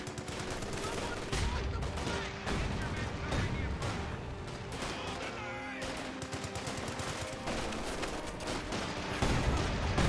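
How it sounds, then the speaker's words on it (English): Dense, continuous gunfire and battle explosions from a Company of Heroes 2 World War II match, a frag grenade among them, loud and sustained throughout. "Throws a frag grenade."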